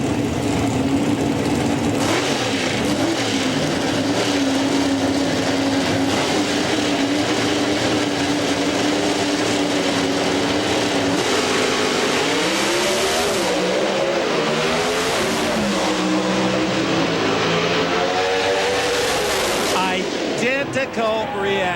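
Drag racing cars launch side by side at the 1999 NHRA Pennzoil Nationals in Richmond, a loud, sustained engine roar that shifts and rises midway, with an announcer talking over it.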